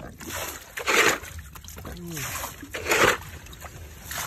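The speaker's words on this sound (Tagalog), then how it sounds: "Tanggalan muna natin ng tubig na pumasok." Water is bailed out of a small boat among kangkong plants: two splashy, sloshing scoops about two seconds apart, close by, with a brief voice between them.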